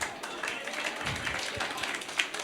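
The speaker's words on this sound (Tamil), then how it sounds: "உங்களுக்கு நீங்களே ஒரு கைத்தட்டல் கொடுத்துருங்க." An audience at a Tamil Christian debate stage event claps in a brief, dense burst of applause, with voices mixed into the noise.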